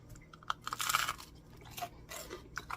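Close, quiet crunchy chewing of gluten-free focaccia, with crisp bites and munching in irregular bursts and no talking.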